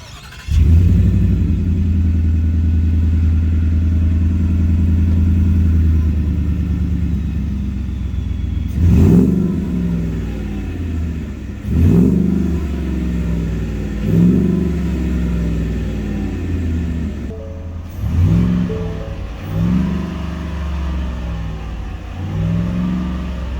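The supercharged V8 of a 2021 Shelby F-150 pickup cranks and fires into a loud, deep idle, then is revved several times in sharp bursts that rise and fall back.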